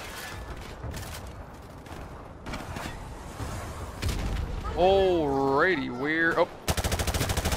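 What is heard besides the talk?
gunfire in the video game Call of Duty 4 Modern Warfare Remastered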